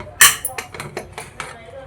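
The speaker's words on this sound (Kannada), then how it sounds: "ಕುಕ್ಕರ್ ಓಪನ್ ಮಾಡ್ತಾ ಇದ್ದೀನಿ" A pressure cooker holding freshly cooked mushroom pulao is opened with a sharp metallic clank followed by several lighter clinks and rattles of the lid and utensils, all close by.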